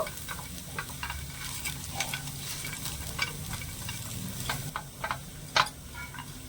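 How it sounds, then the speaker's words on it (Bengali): Peanuts being stirred into a potato filling for vegetarian singara in a pan, giving a steady low sizzle with soft scraping strokes and a few sharper clinks, fairly close and with no talking. "বাদাম দিয়েও খুব ভালো করে আমি মিশিয়ে নেব"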